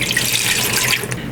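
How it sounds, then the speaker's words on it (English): Cold tap water runs steadily into a pressure-cooker pot, a loud continuous splashing hiss that tapers off as the faucet shuts. "we're gonna add 1 cup of water, and it's just cold tap water, to the pot"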